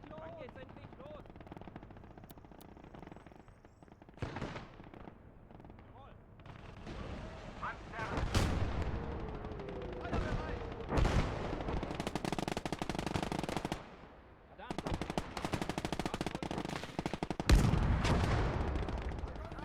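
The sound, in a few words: gunfire from the Gates of Hell video game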